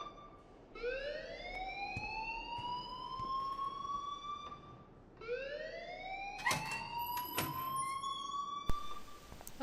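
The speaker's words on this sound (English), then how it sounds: "please turn off that alarm since that's your job" An alarm in Life is Strange gives two long rising siren wails, each sweeping upward and holding, loud and repeating, with a few clanks and knocks in the second half.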